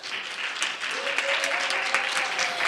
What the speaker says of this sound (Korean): 주인공 되게 하신 우리 하나님께 영화 박수